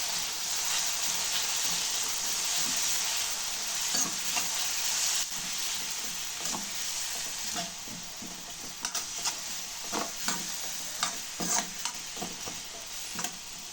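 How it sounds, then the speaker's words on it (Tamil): Ingredients sauté with rock salt in a hot pan for chicken liver gravy. A steady bright sizzle runs throughout, and a spatula scrapes and stirs in irregular strokes that grow more frequent toward the end. "இப்போ நம்ம வதக்கிடலாம்"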